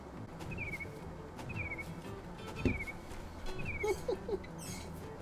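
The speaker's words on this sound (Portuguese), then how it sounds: "Muito bom o barulho do passarinho." Faint, high bird chirps from the game Root repeat about four times at even intervals over a soft, busy game ambience, with a few lower chirps near the end.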